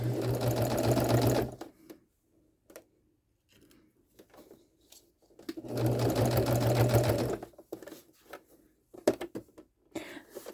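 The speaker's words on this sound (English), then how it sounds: "Make sure your fabric's not actually under what you're sewing, so you don't accidentally stitch things you're not trying to stitch." A sewing machine stitches fabric in two steady, loud bursts of rapid mechanical whirring, separated by quieter stretches of light clicks and handling noises.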